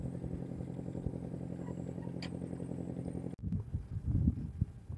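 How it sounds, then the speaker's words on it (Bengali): Motorized trawler boats travel along the Sandhya river, their engines holding a steady, close, chugging drone before the sound cuts abruptly into a rougher, uneven rumble. No one speaks. "এই নদীতে যে কিছু ট্রলার আছে, সেই ট্রলারগুলো কিন্তু যাচ্ছে"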